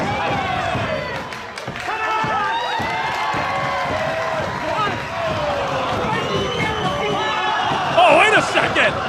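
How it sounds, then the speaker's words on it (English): A sold-out Cleveland wrestling crowd on its feet, cheering and roaring at an independent show, with scattered slams and thumps in the ring and a voice talking over the noise throughout. "This sold-out Cleveland crowd is on their feet."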